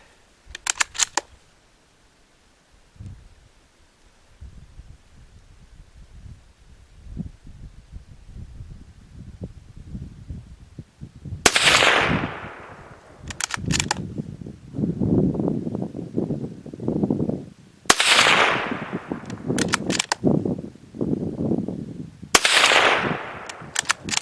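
Ruger 77/22 bolt-action rifle in .22 Magnum firing Maxi Mag rounds outdoors: four loud sharp gunshots spaced several seconds apart, each followed by a ringing echo, with bolt-cycling clicks and handling noise in between.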